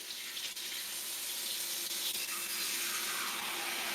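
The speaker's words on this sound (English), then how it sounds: "Yeah, this is some pretty hot water." Hot water runs from a tap into a bowl while meat is being prepared for cooking, a steady close rushing hiss that holds evenly and slowly deepens as the bowl fills.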